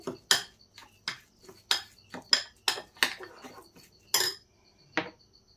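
A spoon scraping and knocking against a bowl while semolina and yogurt are mixed, in about ten separate close, sharp strokes at an uneven pace, with no talking.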